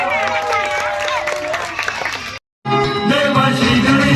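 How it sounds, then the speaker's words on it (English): An audience greets children about to perform a skit with applause and cheering, a dense, steady wash of clapping and crowd noise, cut by a brief gap before resuming. "Let's welcome our little stars with a big round of applause"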